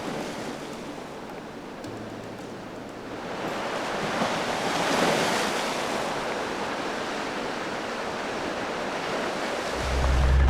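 Mediterranean sea waves wash the shore beside a campsite in Albania, a continuous broadband surf roar that swells in the middle, with wind buffeting the microphone and a low rumble near the end.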